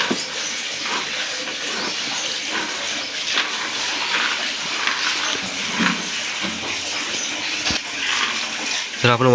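Hot water pours and splashes continuously into a vessel while black pepper is being processed, a broad steady rush with faint voices underneath and a clatter near the end.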